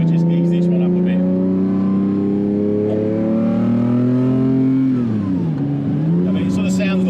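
A Lamborghini Diablo SV engine revs up smoothly, climbing steadily in pitch before dipping and rising again, loud and close, with the exhaust note dominating.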